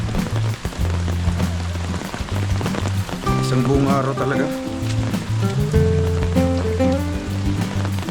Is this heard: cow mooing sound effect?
no